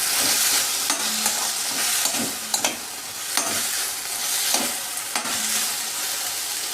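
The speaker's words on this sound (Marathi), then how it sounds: "हे जे पूर्ण मिश्रण जे आहे पूर्णपणे चांगल्या" A chilli paneer sauce mixture is stirred and mixed in a pan: a steady sizzling hiss broken by several sharp scraping strokes of a spoon at irregular intervals.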